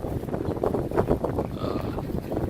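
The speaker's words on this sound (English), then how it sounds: "It has been pretty windy since I came over the pass from San Diego." Gusty desert wind near Yuma buffets the microphone with a loud, continuous low rumble and rushing noise, steady throughout with no voices.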